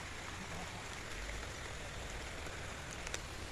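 Rain falling steadily in the countryside, heard from shelter under a large tree near a banana planting, a dense continuous patter of drops on surfaces, moderately quiet and even throughout.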